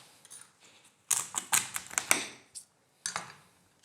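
Knife pressing firmly through a crunchy crab shell while preparing Singapore chilli crab, a cluster of sharp close cracks and crunches in quick irregular succession, then a short final burst after a pause.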